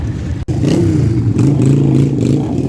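A motorcycle engine revs loud and close at a motorcycle festival, a steady throaty roar with a brief cut near the start, then the revs pick up again.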